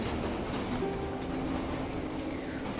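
A train with restored power in the pixel-art puzzle game Flood of Light rolls with a continuous, close rumbling drone and a faint mechanical whine, steady throughout with no voices.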